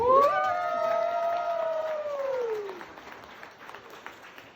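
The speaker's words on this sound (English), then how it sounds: "Please clap for me." Wedding guests applaud the best man at Haeley and Erick's 2023 reception, a steady burst of clapping with a rising whistle or whoop on top that tapers off into scattered claps after about three seconds.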